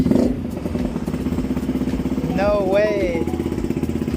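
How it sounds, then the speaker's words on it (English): A motorcycle left unused for almost a year idles right after a cold start, its engine close and loud with a rapid, slightly uneven chugging pulse, while a voice exclaims briefly over it. "Dude, it runs. Wow. That was a little cold start, man."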